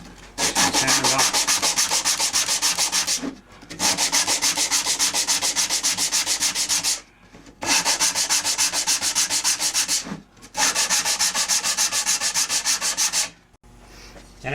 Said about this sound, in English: I just cut a block of wood that my sandpaper just fits in there like that, and I just sand